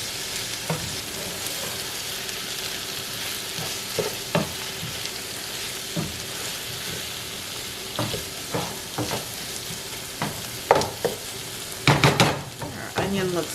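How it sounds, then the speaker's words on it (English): Sausage and onion mixture frying in a pan, a continuous sizzle with a spoon stirring through it, scraping and clacking in irregular bursts that grow more frequent and louder toward the end. "Give your sausage and onion mixture another good stir."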